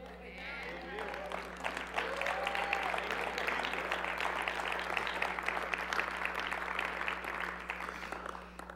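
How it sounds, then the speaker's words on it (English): Church audience applauding, a dense sustained wash of clapping from a crowd lasting several seconds, with a voice faintly heard at the start and a low steady hum underneath. "You guys were clapping."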